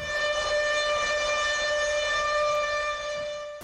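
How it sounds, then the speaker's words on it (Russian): A civil defense siren sounds the "attention everyone" warning signal during a city drill, holding one steady, loud, sustained tone throughout with no voices. "Сигнальные сирены поведомляют про небезпеку."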